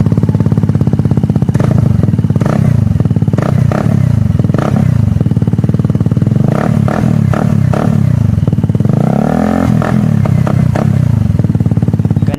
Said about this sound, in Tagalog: Ganon ka-solid mga boss yung tunog ng muffler na to.